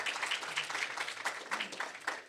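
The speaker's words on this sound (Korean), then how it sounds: "박수 한번 다시 부탁드리겠습니다" An audience at an AI research forum gives a brief round of applause after a presentation, a short burst of steady, moderately loud clapping with no voices over it.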